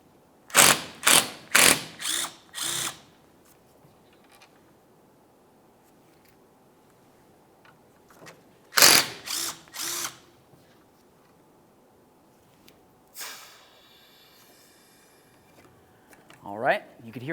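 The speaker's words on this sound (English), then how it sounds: "We'll use a T45 to remove each of these bolts." A Torx T45 bit on a ratchet backing out the A/C condenser bolts on a 2011–2018 Volkswagen Jetta, heard as a few quick bursts of ratcheting clicks with long quiet gaps, close by.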